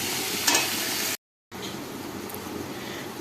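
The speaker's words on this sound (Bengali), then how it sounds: "আলুগুলো ভালো করে ভেজে নিয়ে মশলা কষিয়ে নিলেই আমাদের রান্না হয়ে যাবে" Potatoes fry with spices in a pan during a jackfruit curry preparation, giving a steady close hiss and sizzle with a brief stirring scrape, cut by a moment of silence before the sizzling resumes.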